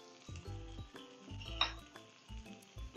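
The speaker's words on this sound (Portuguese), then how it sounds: "Aí aqui a gente vai deixar fritando bem esses ingredientes, mais ou menos de 3 a 5 minutos" Chopped onion, a large garlic clove and green bell pepper fry in a pan with a soft sizzle, broken by several clinks and scrapes of a utensil stirring against the pan.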